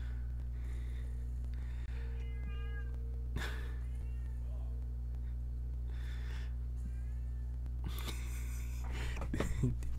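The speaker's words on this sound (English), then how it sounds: "Very loud cat." Several loud, insistent cat meows sound close over a steady low electrical hum, with a breathy snort or gasp near the end and no clear speech.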